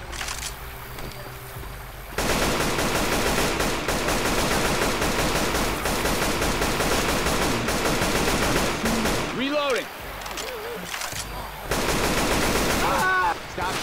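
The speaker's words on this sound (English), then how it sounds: "Stop shooting each other." Sustained automatic gunfire from a Left 4 Dead 2 zombie-shooter battle, loud and continuous rapid bursts that break off briefly before resuming, with in-game character voices calling out over the shooting.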